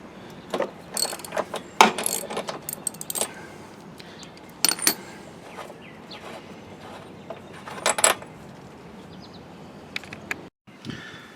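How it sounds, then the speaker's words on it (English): A ratchet clicks in short bursts while removing the spark plug from a Briggs lawn mower engine, with sharp, close pawl ticks separated by pauses and light handling noises. "Now we'll take and remove the spark plug. Take it all counterclockwise."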